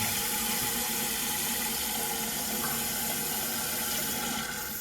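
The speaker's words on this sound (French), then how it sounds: "Si votre robinet n'est pas étanche, vous allez entendre ce bruit-là." Water from a leaking toilet cistern fill valve runs steadily into the tank, a continuous close hiss and trickle that holds for several seconds without pause.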